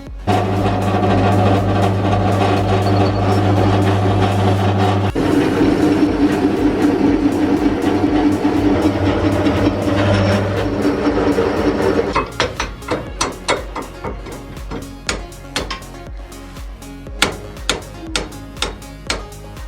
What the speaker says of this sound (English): time for a big hammer and lots of big hits